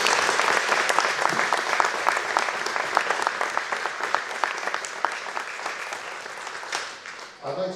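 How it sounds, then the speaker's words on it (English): An audience applauds the Active Cumbria team with sustained, crisp clapping that holds steady for several seconds and thins slightly before a voice begins at the close. "Could you give them all a round of applause"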